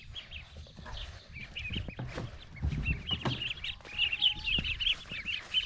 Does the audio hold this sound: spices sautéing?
no